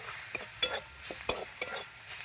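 Spice paste ingredients frying in a pan over high heat, a faint background sizzle broken by a few separate sharp scrapes and clinks from stirring, close with no talk.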